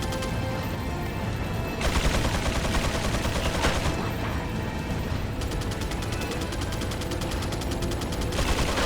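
Hand cannon fire in Resident Evil 4 bursts out as heavy booming shots, with dense clattering gunfire and mechanical effects layered throughout.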